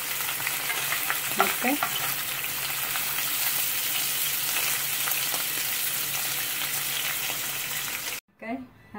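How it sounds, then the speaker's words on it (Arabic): Boiled meat sizzles and spits steadily in oil left in a pan from frying onion, with scraping stirs throughout, then cuts off near the end before a brief clatter and a short spoken word. "هلق اللحمة من بعد ما سلقتها سوحها شوي بنفس الزيت اللي قليت فيه البصلة."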